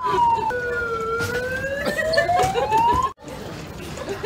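A police siren wails with rising and falling tones, loud and fairly close, running for about three seconds before cutting off sharply, with faint voices in the background.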